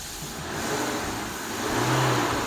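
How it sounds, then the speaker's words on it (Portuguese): A Ford Ranger 3.2 diesel pickup with a check-engine light on and a power loss fault revs up from idle, the engine note swelling twice in a short, close burst. "Vamos acelerar a caminhonete."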